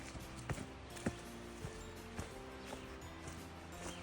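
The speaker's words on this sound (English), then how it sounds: "So you can hear a river in the background roaring." A river roars faintly in the distance beside a mountain trail, a steady wash of noise under scattered nearby footsteps and soft taps.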